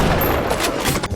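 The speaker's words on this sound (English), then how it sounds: "using the shotgun is so satisfying" Shotgun fire in the video game Bioshock: a loud, dense, continuous blast of gunfire noise filling the whole short moment, with no pause between shots.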